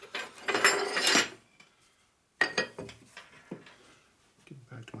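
Metal hammer blows struck on a big chisel while rebuilding a motorcycle crankshaft with a flywheel truing tool, a dense burst of sharp clanks followed after a pause by scattered single knocks, close and fairly loud.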